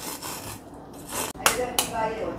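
Corn being grated by hand for fritters, a close, continuous rasping scrape in rough strokes with a couple of sharper scraping bursts in the middle.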